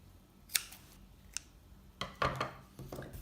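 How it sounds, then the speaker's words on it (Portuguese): Scissors snip through excess crochet yarn in a handful of quick, close, crisp cuts, two isolated snips followed by a brief cluster of cuts, quiet and without talk. "aqui eu posso cortar o excesso"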